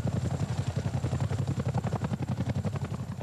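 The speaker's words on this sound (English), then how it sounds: "A Chinook lands at Boscombe Down for an exercise with a difference" A Chinook helicopter landing at Boscombe Down, a steady rapid rotor thump with a low engine drone, loud and close throughout, with no talk.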